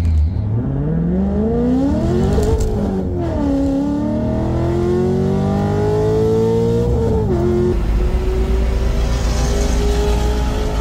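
A C6 Z06 and a supercharged C5 Corvette launch in a drag race, engines roaring loudly with pitch sweeping upward, dropping at gear shifts and climbing again through a long full-throttle pull.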